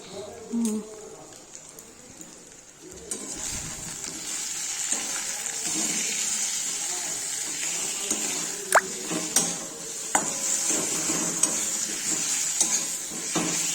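Cut potato chunks frying with chili and turmeric in hot oil for a Bengali fish curry give a steady, close sizzle with occasional stirring clinks, while a voice talks over it.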